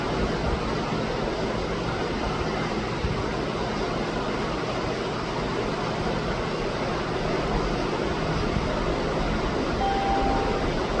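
A Blue Line subway train rolls into an underground station with a steady, continuous rumble and hum, fairly loud and unbroken, with no talk over it.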